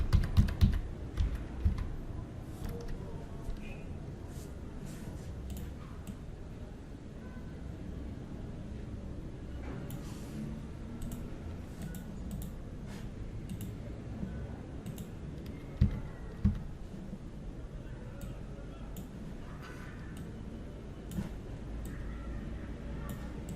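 Computer keyboard typing in a quiet room, a steady run of soft, close key clicks with a few louder taps, no talk.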